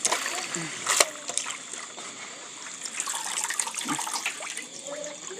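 Something being washed in a little water, a steady trickling and splashing close by with a brief louder splash near the start, while a voice talks over it.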